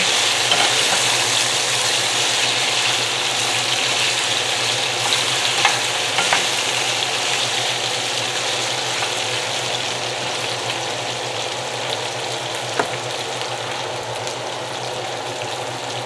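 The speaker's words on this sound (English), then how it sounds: "I'm just stir that up. Make sure all my potatoes is well coated with the oil." Potatoes sizzle steadily in hot oil while being stirred in a pan, a continuous close frying hiss with occasional soft scraping, no voices.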